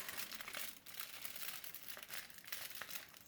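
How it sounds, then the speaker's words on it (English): Soft, close crinkling of aluminium hair foil being folded during a highlighting session, a faint continuous rustle with small crackles. "Fold my foil"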